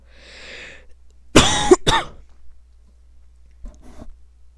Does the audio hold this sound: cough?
yes